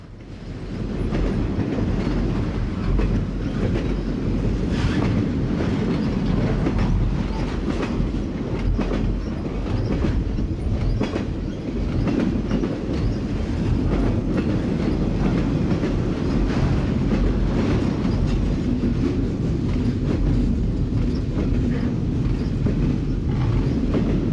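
An intermodal freight train carrying UPS, J.B. Hunt and Schneider National trailers rolls through Berea, a continuous loud rumble with rhythmic wheel clatter sustained throughout.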